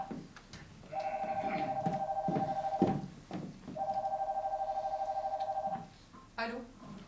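A telephone rings in two long electronic bursts separated by a pause, loud and close, with people talking over and between the rings.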